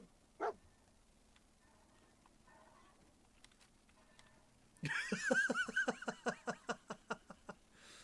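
A dog in Fallout 4 starts barking after a quiet stretch with a single soft thump, giving about a dozen loud, evenly spaced barks that fade slightly toward the end.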